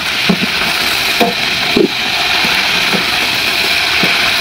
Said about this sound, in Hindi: तो चिकन डाल दिया इसके अंदर, इसको हल्का सा फ्राई करेंगे।